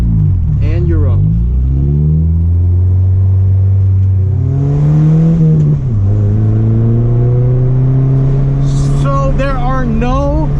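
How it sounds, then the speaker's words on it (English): Manual car pulling away from a stop in first gear. The engine hums low, revs up, drops as the clutch is let out, then climbs again, with close talking over it. "clutch in, first gear, let go of the clutch until it starts moving, gas,"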